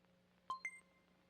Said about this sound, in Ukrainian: Повідомлення від мами.